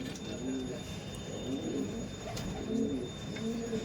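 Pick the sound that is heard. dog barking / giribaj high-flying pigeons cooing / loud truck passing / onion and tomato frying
giribaj high-flying pigeons cooing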